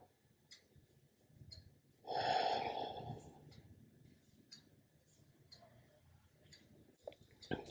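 A person holds a yoga pose with arms extended to the sides and breathes close to the mic, with one long, loud exhale in the middle and softer breaths around it.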